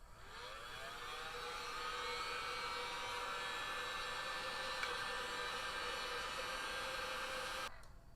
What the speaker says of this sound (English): we can take our heat gun and kind of heat up the inside of it